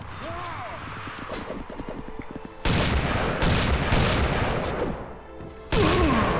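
Heavy shotgun blasts boom in the cartoon action game Family Guy: Back to the Multiverse, loud sudden bursts at two points with a rumbling spread of noise after each, amid game sounds and a little talk.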